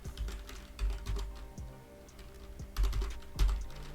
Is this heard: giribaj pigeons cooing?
no